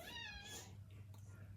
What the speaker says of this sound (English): That's my cat if you can hear him.